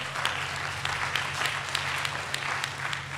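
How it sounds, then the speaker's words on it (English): A room of people applauds steadily at a District 214 startup showcase, celebrating seed funding from the education foundation. Dense clapping holds at an even level throughout, with a low hum underneath. "Round of applause for that."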